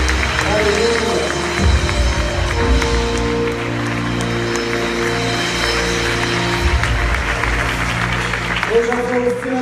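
Congregation applause at a church service rolls on steadily, broad clapping under a bed of sustained music and murmuring voices, with a brief lull midway.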